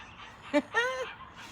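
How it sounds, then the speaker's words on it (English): A short dog yelp followed by a longer whining bark, faint and somewhat distant, over quiet background hiss. "do you hear those dogs barking?"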